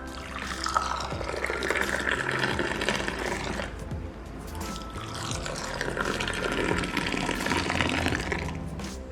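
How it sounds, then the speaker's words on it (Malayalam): Kerala tea poured from a height into a drinking cup, a steady splashing liquid stream that runs loud and continuous for several seconds, dipping briefly midway before resuming. "മൂന്നാമത്തെ ആറ്റ് നമ്മൾ കുടിക്കുന്ന കപ്പിലോട്ട് ഒഴിക്കണം"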